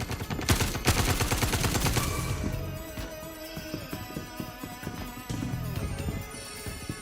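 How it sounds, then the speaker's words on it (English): Loud rapid gunfire from the video game Star Citizen opens with dense bursts, then gives way to scattered shots over a sustained droning background. "What's this guy shooting at?"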